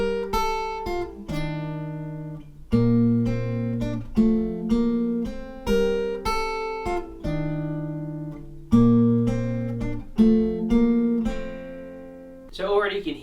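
Guitar playing a riff with added bass notes, plucked chords ringing in a steady repeating pattern with low bass tones under each change, close and clear, ending with a brief scrape.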